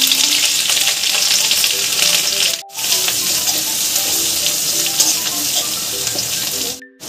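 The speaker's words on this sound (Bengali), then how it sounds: "ঘিটা আমার গরম হয়ে গেছে, এর মধ্যে আমি দিয়ে দিচ্ছি কিছু আদা কুচি" Chopped ginger frying in hot ghee for vegetable fried rice, a steady bright sizzle running throughout with two brief dropouts, no voices.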